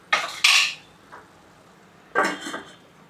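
Metal pot lid clanks shut over chicken kurma, a few sharp close clatters of cookware in two bursts with a quiet gap between.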